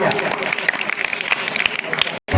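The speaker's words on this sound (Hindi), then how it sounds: "तो तेजराज जोरदार तालियां" Applause from a school audience at an Independence Day programme, a dense continuous patter of many hands clapping at close range that holds steady, then breaks off briefly near the end.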